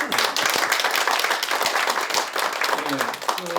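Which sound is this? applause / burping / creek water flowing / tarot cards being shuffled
applause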